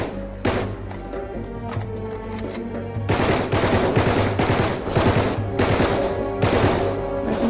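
Rapid automatic gunfire from the video game Uncharted 3, with dense, loud bursts that thicken into sustained volleys after a few seconds, along with thuds of impacts.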